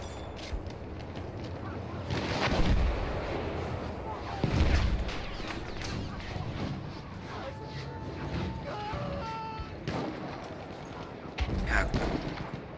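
Cannon and artillery fire in a Battlefield 1 multiplayer match, with several heavy booming blasts spread across the span amid battle noise, while a player talks over it.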